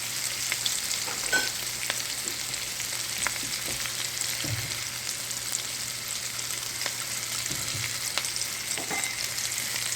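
Mushrooms sizzle and fry in a pan with garlic, ginger and shallot, a steady bright hiss running throughout with occasional stirring knocks and scrapes close by.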